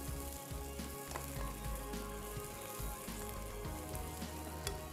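Onions fry to light brown in a pan, a loud, continuous sizzle with a few faint stirring scrapes and no talking over it.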